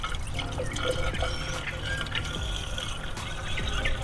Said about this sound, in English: All right, I'm gonna go ahead and fill the reservoir.